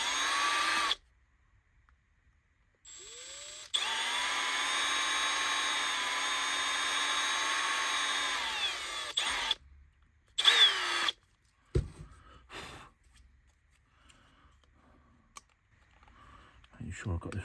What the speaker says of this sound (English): I'm just going to drill out the holes in the body to make my life a little bit easier.